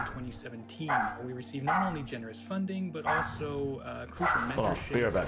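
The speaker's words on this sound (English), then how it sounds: "Here's my dog barking." A pet dog barks and yips repeatedly in the background while a person keeps talking over it.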